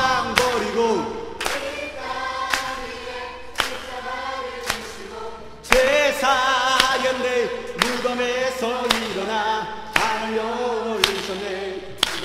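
A congregation claps along to a worship song at a church youth mini camp, sharp regular claps repeating over sustained singing and music throughout.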